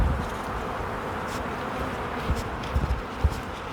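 A dense, steady buzz of many honeybees swarming close by at a hive, with a few soft knocks and thumps near the end as bees are knocked off a brood frame.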